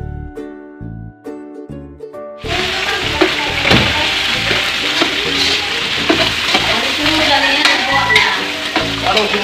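Ground meat frying in a pan, being stirred: after a few seconds of music, a loud, steady sizzle begins, broken by scraping stirs.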